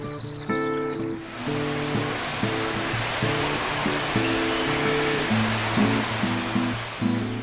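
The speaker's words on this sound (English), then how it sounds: "the water here cascades over the cliff in an unusual horseshoe shape" Haruru Falls in New Zealand's Bay of Islands pours over a horseshoe-shaped cliff, a constant broad rushing roar of water heard under a melodic music track that plays over it.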